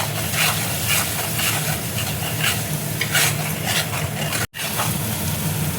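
Masala with Kashmiri chilli powder and tomato puree fries in a pan while being stirred, a loud, steady sizzle with repeated scraping strokes and one brief cut in the sound.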